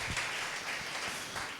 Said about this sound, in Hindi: ऐसी सुस्त ताली अपने पास रखो।